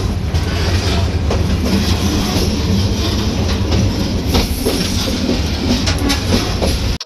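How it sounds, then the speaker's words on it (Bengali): Mohanganj Express train running at speed after leaving Shyamganj junction, with a loud, steady rumble and rhythmic clatter of wheels on rails, close and continuous until it cuts off abruptly at the end. "শ্যামগঞ্জ রেলওয়ে জংশন ছাড়ার পর বেশ ভালো পরিমাণ গতি নিয়ে ছুটে চলছিল আমাদের মোহনগঞ্জ এক্সপ্রেস"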